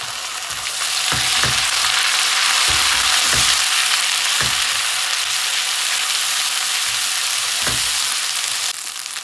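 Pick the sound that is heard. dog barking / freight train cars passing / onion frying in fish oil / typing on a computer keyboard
onion frying in fish oil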